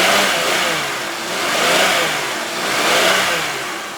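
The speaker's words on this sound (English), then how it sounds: "as I rev it up, how good it sounds." A 3.4-liter V6 in a 2004 Chevy Venture van revs up and falls back in three rising and easing swells, a steady, close engine roar with no talking.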